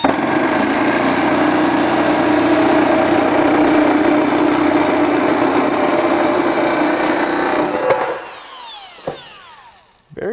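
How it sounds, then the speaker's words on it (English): A Milwaukee M12 FUEL 16-gauge cordless variable-speed nibbler chews through aluminum sheet with a loud, continuous rasping buzz that holds for about eight seconds, then cuts off and leaves brief clatters and a winding-down whine. "And it will actually cut this aluminum very quickly."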